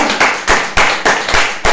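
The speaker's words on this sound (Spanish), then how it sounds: "Denle un fuerte aplauso al Señor en esta palabra" A church congregation claps in time during a sermon: about seven sharp, loud hand claps in a steady rhythm, close and clear, with no voices.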